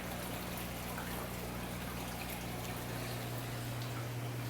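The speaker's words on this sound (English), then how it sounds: "The filter sock probably needs to be changed, that's why you see the water overflowing like that." Water spilling over a clogged aquarium filter sock in a fish room, a continuous close trickle and splash over a steady low pump hum.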